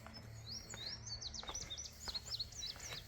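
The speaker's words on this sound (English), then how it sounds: "Got the birds chirping." Small birds on a wooded mountain homestead chirping in quick, repeated high tweets, several calls overlapping in irregular bursts, fairly faint over a low steady hum outdoors.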